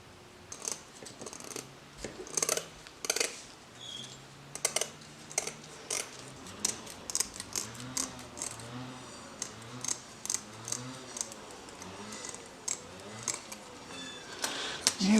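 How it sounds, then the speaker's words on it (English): Regular scissors cut through mesh screen material in a workshop, producing a series of close, crisp snips and clicks in an uneven rhythm over quiet background. "Just going to use some regular scissors."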